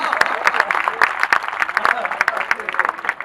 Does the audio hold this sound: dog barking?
no